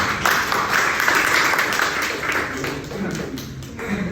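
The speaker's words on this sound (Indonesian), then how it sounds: "Tepuk tangan dulu." An audience claps together in steady applause after a group presentation, a dense patter of hands lasting several seconds.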